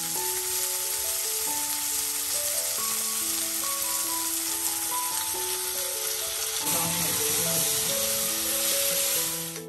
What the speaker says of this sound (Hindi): छौंका मारेंगे।